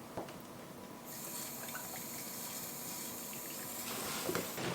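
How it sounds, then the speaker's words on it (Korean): Rinse water runs through the inflator hose into a scuba diving buoyancy compensator, a steady faint rushing and gurgling fill with no talking. "BCD 안으로 물이 들어가고 있습니다."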